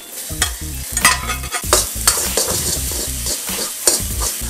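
Freshly cooked rice and ingredients stirred and tossed in a hot wok, with repeated scraping and clattering strokes over a steady loud sizzle.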